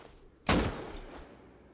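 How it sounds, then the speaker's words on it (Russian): A single gunshot from the survival video game Rust cracks out suddenly at mid-volume, then decays into a short fading echo with faint background noise. "В смысле, откуда это он выстрелил?"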